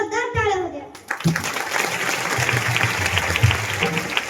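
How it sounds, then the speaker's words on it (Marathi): Applause from the audience at a children's kirtan performance during an Akhand Harinam Saptah festival. A single voice sounds briefly at the start, then dense, steady clapping fills the rest of the clip. "तुम्ही माझं कीर्तन ऐकायला आला म्हणून महाराज यांच्यासाठी जोरदार टाळ्या होत्या."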